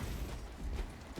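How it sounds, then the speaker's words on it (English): A weapon reloading in the Warhammer game Space Marine 2 gives a brief, faint burst of mechanical clicks and metallic rattles over low background rumble. "Reloading weapon."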